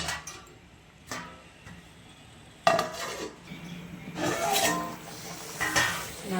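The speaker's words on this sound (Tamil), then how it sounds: "ரைட்டாக மூடி போட்டுடலாங்க." A metal lid clanks onto a pot of boiling sardine curry, giving a few sharp clinks and scrapes between quieter bubbling stretches.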